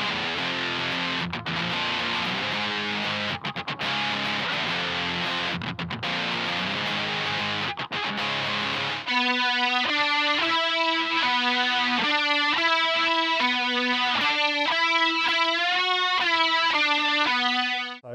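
An electric guitar through a Boss DS-2 distortion pedal plays a thick, distorted chordal part, then shifts to clean, shimmering single notes through a Boss CE-2W chorus pedal, loud and close.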